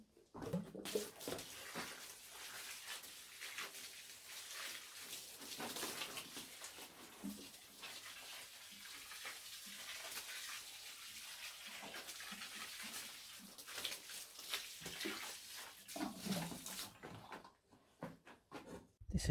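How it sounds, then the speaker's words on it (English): Water splashes and patters steadily from a hose or can as plants are watered inside a greenhouse on a warm day, a continuous close hiss with small variations, a few faint bird calls in the background, ending in near quiet. "and I'm watering."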